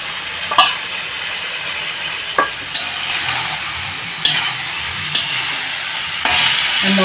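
Small pieces of mutton browning in spiced oil, a loud continuous sizzle with a half-dozen distinct scraping stirs spaced a second or so apart, close and prominent throughout.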